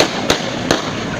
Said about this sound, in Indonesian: Kita saksikan inilah gaya seorang teroris yang membabi buta mengeluarkan tembakan.